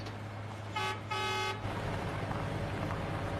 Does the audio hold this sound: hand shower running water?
no